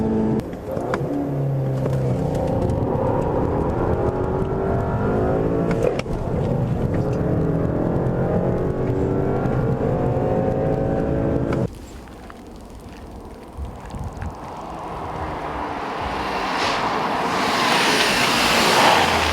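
A 2013 Volkswagen CC R-Line with a turbo engine accelerating hard from 0 to 60 mph, a loud steady engine roar rising in pitch, then a brief drop as it shifts before building again, heard from inside the car.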